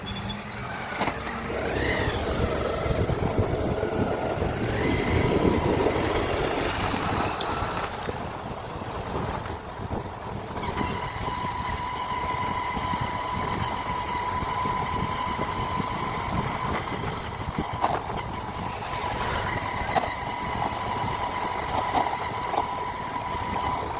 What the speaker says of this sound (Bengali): আমরা দুজন মিলে বাইক চালাচ্ছি বন্ধুরা।